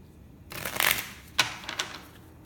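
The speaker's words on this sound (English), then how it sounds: "We're going to pull a card from our crystal deck." A crystal oracle card deck is shuffled close up in a brief riffle, a few crisp papery flicks and taps over about two seconds.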